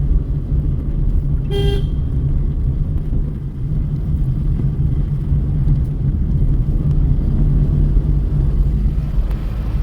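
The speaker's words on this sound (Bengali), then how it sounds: "সিঙ্গেল হংকিং মানেই হচ্ছে থ্যাংক ইউ" One short car horn toot sounds on a mountain road, heard from inside the car over a loud, steady engine and road rumble.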